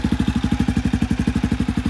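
A 2022 Honda CRF250F dirt bike fitted with a Pro Circuit exhaust fires up and settles into a loud, close, steady single-cylinder idle with an even, rapid thumping pulse.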